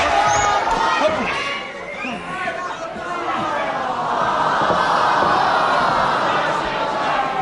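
A wrestling arena crowd keeps up a steady roar of chatter and shouting throughout, loud and continuous, with a commentator's voice threaded through the noise.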